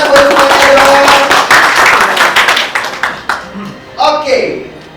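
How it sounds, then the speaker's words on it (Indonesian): Seminar audience at a motivational talk claps loudly and densely for a couple of seconds, then the applause breaks into scattered claps and dies away while a voice speaks over the tail end. "Kasih tepuk tangan buat semuanya dong."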